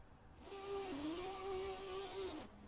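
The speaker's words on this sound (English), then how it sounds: "The qualifying session sounds like it's starting, and all of our F3 cars are going to jump into life all at the same time" Several Formula 3 race cars in the Assetto Corsa racing game fire up together at a qualifying start, a steady idling engine drone with a small pitch dip and rise, lasting about two seconds before cutting off.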